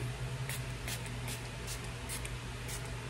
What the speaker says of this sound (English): I'm gonna spray my face with this can prime and set